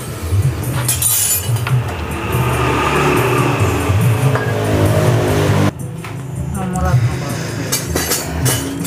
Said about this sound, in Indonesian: Ini suaranya agak kasar di bagian mesinnya.